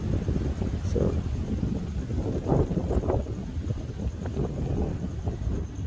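Wind gusts buffet the microphone outdoors in Perth, Western Australia, while a DJI Mini 2 drone is test-flown; a steady low rumble with rising and falling surges runs throughout, fairly loud and without a break.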